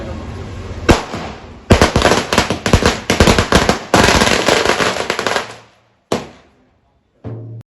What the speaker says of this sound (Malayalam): പ്രാർത്ഥന കഴിഞ്ഞിട്ട് നേരെ നമ്മളിത് പടക്കം പൊട്ടിക്കും.